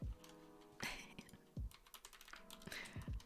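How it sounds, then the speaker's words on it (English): Typing on a computer keyboard with the left hand only: uneven clusters of close, crisp key clicks with short pauses between bursts, with no talking. "I'm typing with my left hand only."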